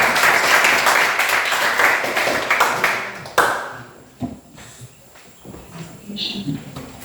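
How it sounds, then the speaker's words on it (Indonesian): A classroom claps for a student group about to present, with dense, brisk applause for about three seconds that cuts off abruptly, leaving scattered shuffles, knocks and faint voices. "berikan tepuk tangan kepada kelompoknya luar"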